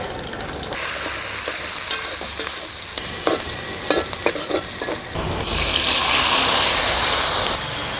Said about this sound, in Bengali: তেল দিয়ে দিলাম, পেঁয়াজ, কাঁচামরিচ